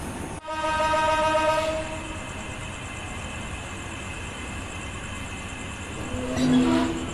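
The Shimanto Express train rolls into a station with a loud, long horn blast up front, a steady rumble of rail cars after it and another short horn toot near the end.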